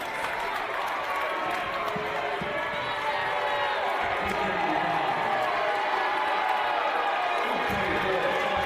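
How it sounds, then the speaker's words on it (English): Bountiful fans at a boys high school basketball game voice their displeasure in a steady, loud wash of crowd noise filling the gym, with voices mixed in. "the Bountiful fans starting to voice their displeasure"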